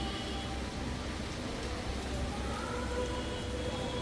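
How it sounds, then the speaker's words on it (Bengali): Heavy rain falling outside under a dark, clouded sky makes a steady, dense broadband hiss that fills the whole stretch without pause, fairly loud and even, with no voices. "বাইরে বৃষ্টি হচ্ছে খুব"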